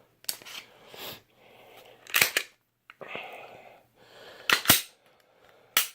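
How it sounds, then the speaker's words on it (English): A Glock 19 pistol is drawn from its case and cleared: sharp, close metallic clacks of the slide racking, some in quick pairs, separated by softer rustling and handling noise. "So I'll get the gun out, clear it for you guys."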